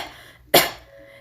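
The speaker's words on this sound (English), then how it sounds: "You coughed" A single short, sharp cough bursts out close by and fades quickly, with quiet background before and after.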